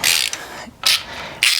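Ratchet wrench clicking as it backs out 12 mm bolts while installing Impaktech race rails, heard as three separate bursts of rapid, close, loud ratcheting with short quiet gaps between them.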